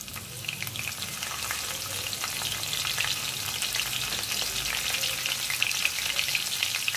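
Green chillies dropped into hot oil already holding cumin and mustard seeds give a loud, steady close-up sizzle and crackle that lasts the whole stretch, with no voices.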